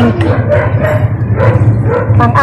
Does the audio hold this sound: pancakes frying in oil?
no